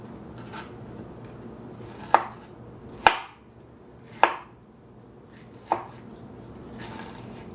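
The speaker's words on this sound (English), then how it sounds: "Once the peaches have been peeled and sliced," A knife slicing peeled peaches on a cutting board makes four crisp, close chops spaced about a second apart against a quiet background.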